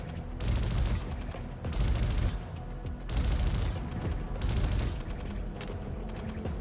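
Bursts of rapid gunfire in the Star Citizen space game, three or four loud volleys of crackling shots separated by brief lulls, close and dense.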